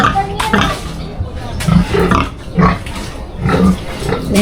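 Large pet pigs grunt close by in a series of low, rough snorts roughly once a second, with farmyard background noise.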